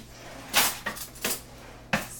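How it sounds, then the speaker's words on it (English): A spoon is grabbed in a home kitchen, heard as a few close, quick clattering knocks of a drawer and metal, spaced irregularly and then a final sharp clack. "So I'm going to come over here and grab a spoon"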